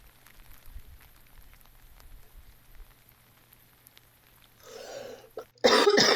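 A person with the flu lets out a cough near the end of a rainy late-day walk by the high cliffs around Mercer Bay near Piha, a short loud burst close to the microphone after quieter rain and outdoor noise.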